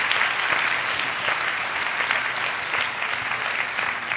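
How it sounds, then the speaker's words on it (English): An audience at a panel discussion gives the panelists a round of applause, a steady wash of many hands clapping at even loudness throughout, with no talking over it. "will you please join me in giving them a round of applause?"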